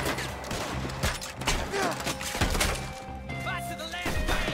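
Semi-automatic gunfire in Red Dead Redemption 2 Online, a string of sharp cracking shots and thwacking impacts from several guns in quick irregular succession, loud and near, with game music underneath and occasional talk.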